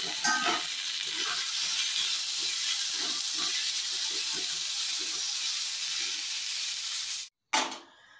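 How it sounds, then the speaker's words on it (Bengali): Vegetables frying in an aluminium wok, giving a continuous close hissing sizzle with faint stirring scrapes that runs steadily and then cuts off abruptly near the end. "তো চলো এটা একটু ফ্রাই হয়ে নিই।"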